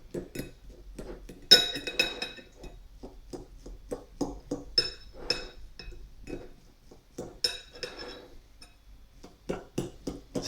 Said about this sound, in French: Ça va me permettre de tout mélanger tranquillement